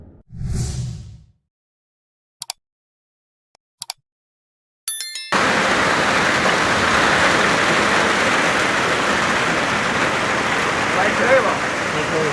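Steady heavy rain pours loudly and continuously after a near-silent opening with a short voice and a few faint clicks.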